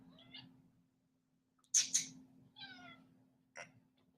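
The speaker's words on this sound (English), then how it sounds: "He's the talkingest cat." A talkative house cat meows several times in short separate calls, close and fairly loud against a quiet room with a low steady hum.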